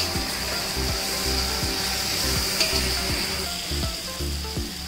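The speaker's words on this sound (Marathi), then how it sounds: "आपला हा मसाला फ्राय झालेला आहे." Green masala paste for chicken biryani frying in a pan, a close, steady sizzle and hiss overlaid by repeated short falling tonal sweeps.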